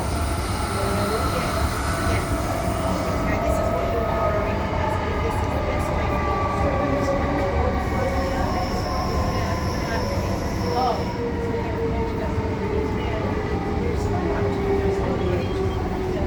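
Transperth A-series electric train on the Midland line near East Guildford, a steady loud rumble of wheels and traction motors with rising and falling motor whine and faint squeals throughout.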